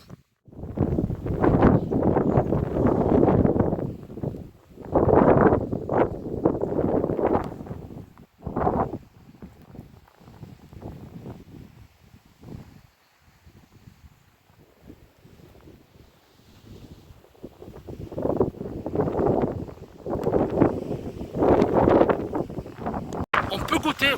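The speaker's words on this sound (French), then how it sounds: "on a le vent qui compense" Wind blows across an open hilltop on a hike near a citadel, buffeting the microphone in low gusts beneath long stretches of people talking.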